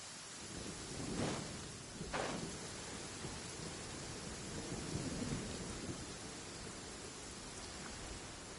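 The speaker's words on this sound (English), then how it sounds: "It's raining again." Steady rain hisses throughout in the game Genshin Impact, with two sharp thunder cracks early on and low rumbling rolling in the background.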